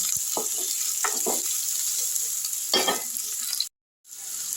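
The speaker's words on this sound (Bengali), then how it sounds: "টুকরো করে কেটে রাখা আলু দিয়ে দিলাম আলুগুলোকেও আমি একটু ভেজে নিচ্ছি" Potato pieces fry in oil in a pan with a steady, close, fairly loud sizzle and occasional stirring scrapes, then the sound cuts off abruptly to silence near the end before the frying hiss returns.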